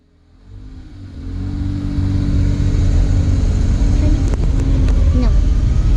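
The engine of a Suzuki Carry mini truck settles into a steady idle just after starting. The rumble rises over the first two seconds and then holds loud and close, with a few light ticks near the end.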